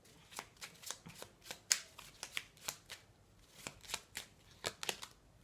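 A deck of oracle cards shuffled by hand, a series of crisp riffling bursts at an irregular pace, close and clear with no talk.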